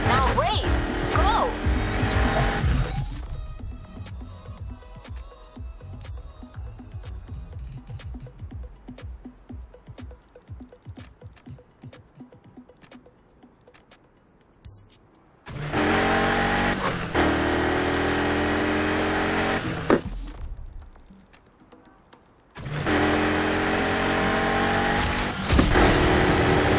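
Race car driving in Need for Speed Heat, with bursts of loud engine roar and revving separated by quieter stretches of low rumble and clicking, near and intense when accelerating.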